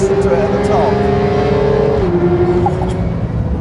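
A Porsche 911 GT3 engine with a PDK gearbox revs hard to its 9,000 rpm top end, a loud close rising wail that climbs, then holds and drops slightly as it shifts, with some talk over it.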